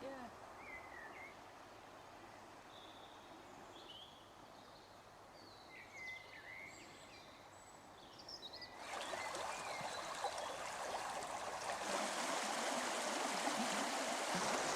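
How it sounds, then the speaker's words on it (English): A river stream where two rivers join, heard outdoors as a soft steady rush under birdsong that swells into a louder, fuller wash of flowing water partway through. "Sort of a double river coming together here."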